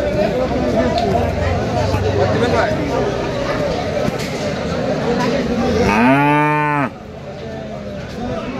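A cow lets out one long, loud, deep moo up close at a busy cattle market, rising over a steady murmur of crowd chatter and bargaining voices.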